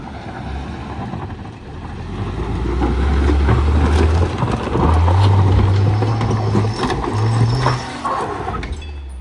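A car labours along a badly muddy road near the Line of Control in Keran Valley, its engine droning loud and steady with rising, strained revving that surges and eases across the stretch.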